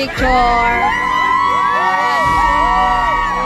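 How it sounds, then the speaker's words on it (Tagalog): A dense crowd shouts and cheers loudly and continuously around a public figure, with whoops and yells layered over sustained chatter and some voices close by. "Sigawan sila kay Dr. Love, guys."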